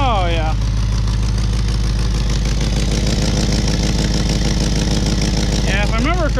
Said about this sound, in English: You walk up here and you got the distinctive ticking sound. Good old exhaust leak.